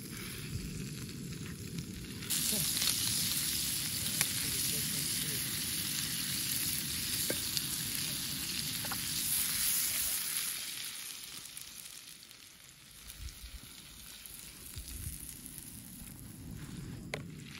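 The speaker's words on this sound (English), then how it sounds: "Some wild mountain trout cooking up on the pan." Wild mountain trout fries in a generous amount of butter in a pan, with a steady, close sizzle that runs throughout, getting louder after a couple of seconds.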